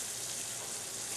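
Frog legs frying in a pan for piccata, a steady dense sizzle and crackle of hot oil filling the kitchen with no pauses.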